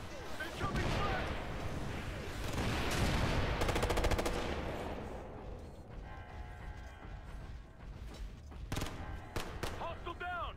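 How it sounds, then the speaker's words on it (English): Gunfire in the Ghost Recon: Future Soldier video game: loud bursts of rapid automatic fire with sharp shots and mechanical clatter, mixed with shouted voices. "Incoming fire!"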